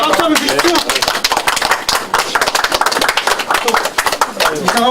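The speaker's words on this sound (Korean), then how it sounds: "고향 기자분들 저희는 박수 한번 주십시오." Applause for regional journalists at a press meeting: loud, close clapping from a small group, rapid and uneven, with voices mixing in over it.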